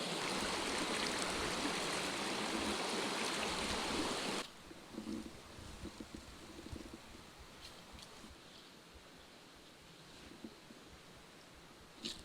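A desert creek rushes loudly near a waterfall, then the roar drops abruptly to a softer, closer trickle of flowing water with occasional splashes, no voices.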